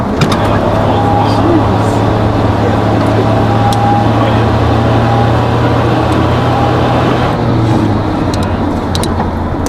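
Car engine pulling under partial throttle on a seven-turn, one-mile infield track at a Texas driving experience, a steady loud drone with road and wind roar throughout, no voice standing out above it.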